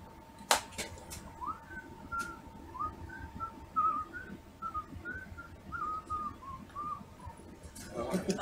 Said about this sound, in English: I'm always jealous of people that can whistle really well.